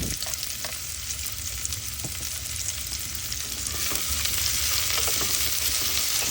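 Onions hitting a hot pan for a Filipino chicken-feet sinampalukan, giving a steady loud frying sizzle with scattered crackles and the odd scrape of a utensil, growing slightly louder toward the end, with no talking.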